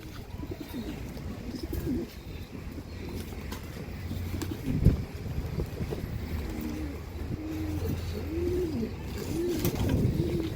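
Quality pigeons kept by a breeder coo in soft, repeated low rolling calls against steady background noise, several birds sounding close together.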